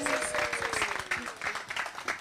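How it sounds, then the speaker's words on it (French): Crowd at an event applauds a performing artist and dancer, dense continuous clapping with voices and a faint musical tone mixed in. "Les applaudissements."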